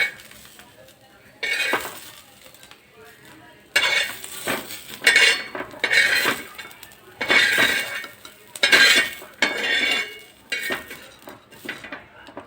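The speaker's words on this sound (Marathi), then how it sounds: "आता कांदा काढून घेऊया." Utensil scraping and clinking in a pan of hot oil as fried onion is lifted out for a chicken thali, a run of metallic scoops and taps in bursts, fairly close and with no talk.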